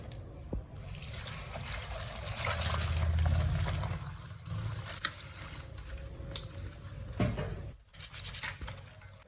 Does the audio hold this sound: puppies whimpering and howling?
no